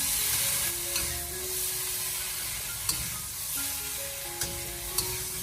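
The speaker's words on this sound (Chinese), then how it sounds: "接下来再把蒸熟的茄子给它放进锅里面，然后再继续的开大火，给它继续的翻炒一下" Steamed eggplant and green beans stir-fried over high heat in a wok, a steady close sizzle with occasional sharp clicks of the spatula scraping and tossing the vegetables, and no voices.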